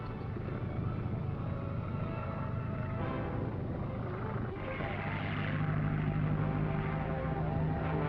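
A propeller airplane drones overhead in a steady, broad engine hum that swells a little louder midway, with voices talking beneath it.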